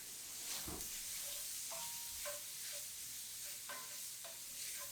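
A wooden spoon stirs potatoes, onions and peppers frying in a pan for chorizo hash, giving a steady soft sizzle with scattered scraping and knocking strokes, quiet and close, with no speech.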